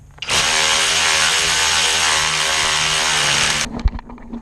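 A power tool spins a nut off during replacement of a hydro boost on a truck, a loud, steady high-pitched whir lasting about three seconds before cutting off abruptly, followed by a brief clunk, with no talk.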